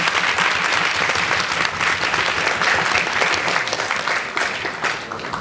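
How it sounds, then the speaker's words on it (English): An audience at a science versus humanities debate applauds to welcome a professor, a steady, dense round of clapping that stays loud throughout and fades only slightly toward the end. "A round of applause."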